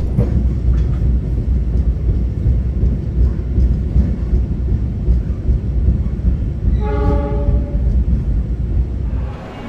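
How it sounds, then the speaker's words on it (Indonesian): Argo Cheribon train wheels with a bumpy flat-spot beat, a loud continuous rumble heard from inside the carriage, with a brief horn tone near the end before the noise eases. "Suaranya kayak roda benjol, tapi untungnya tidak mempengaruhi suspensi."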